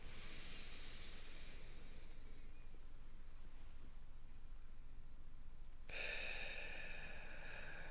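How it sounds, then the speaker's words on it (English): Slow, deep breathing during a guided mindfulness meditation, with soft airy inhales and exhales that are faint and quiet before a louder, closer breath near the end; no talking. "practicing mindfulness with deep breathing as your object of meditation."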